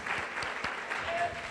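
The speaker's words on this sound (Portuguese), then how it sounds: "Aplaudamos o Rei." A church congregation at a Sunday service claps steadily together, a dense sustained applause filling the room throughout.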